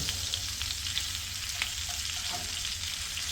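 Steady, dense sizzling of flour frying in hot fat, continuous and fairly close, with faint stirring scrapes and no talking.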